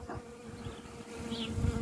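Honey bees at work in an apiary buzz steadily and close by, a continuous droning hum that swells slightly near the end, with no voices.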